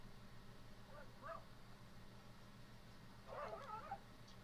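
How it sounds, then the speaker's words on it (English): Dogs yip and bark faintly in the background at home, two short distant bursts under a steady low hum. "Sorry if you get my dogs barking in the back"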